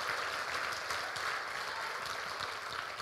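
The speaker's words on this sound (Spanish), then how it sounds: "Denle un aplauso al Señor, no se contenga." A church congregation applauding, a steady wash of clapping that fills the room evenly for a few seconds with no one speaking.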